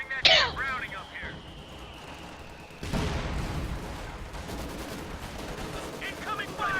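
Machine-gun and artillery fire in Company of Heroes 2: a sharp burst opens, then a dense sustained roar of gunfire and explosions rolls on loudly, with voices talking over it.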